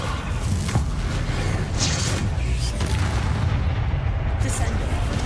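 Spell blasts in Hogwarts Legacy gameplay, with a Bombarda explosion among others, make a dense, loud wall of booming roars and crackling bursts. The blasts run without break under a voice shouting spell names.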